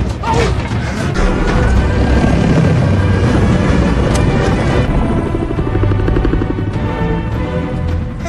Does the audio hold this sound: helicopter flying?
yes